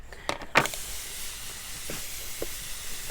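A hand spray bottle misting hydrangea cuttings stuck in peat, two or three short close hissing spritzes at the start, then a few fainter ones later.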